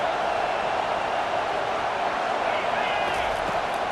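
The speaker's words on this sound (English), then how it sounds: "this crowd is turning it up a notch" A loud college football crowd roars steadily in a packed stadium, a dense unbroken wall of cheering with scattered claps, sustained at high level throughout.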